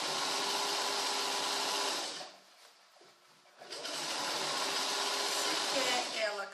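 Sewing machine stitching a trouser seam, a fast steady whirring run that pauses briefly midway, then resumes at the same close, even pace.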